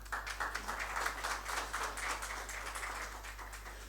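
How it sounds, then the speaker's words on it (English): Audience at a finance seminar applauding to welcome a speaker, a dense, fairly soft patter of many hands clapping over a low hum, fading slightly toward the end. "So kindly join me by giving a clapping to him."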